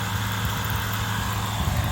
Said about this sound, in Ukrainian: трактор на ходу